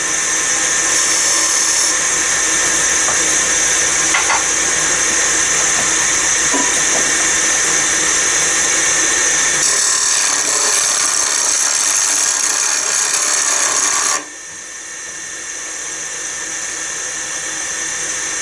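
A George Hatfield rod scraper works along a length of timber, producing a loud continuous high whine and hiss that holds steady, then drops sharply in level near the end as the cut finishes, without speech.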